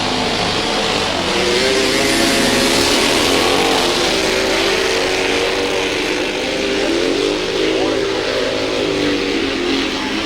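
Speedway sidecar motorcycles race at a 1999 classic nationals meeting, engines roaring loud and continuous with shifting revs as they pass, while a commentator talks over the racing.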